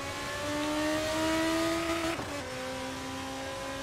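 Race car engine in a sim racing game at the Red Bull Ring, a steady loud high-pitched whine held near the top of the revs with a brief sudden dip midway, then the same strained tone again, with no talk.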